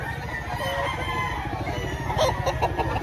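A chicken at a poultry market in Lipa, Batangas calls a few times, fairly faint over a low, steady market din.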